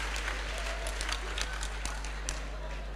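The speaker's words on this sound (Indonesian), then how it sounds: "Kita berikan tepuk tangan yang meriah bagi Tuhan kita." A church congregation at a 2002 healing service in Indonesia breaks into broad applause, thick continuous clapping with sharper hand claps standing out, over a low steady hum and with some voices mixed in.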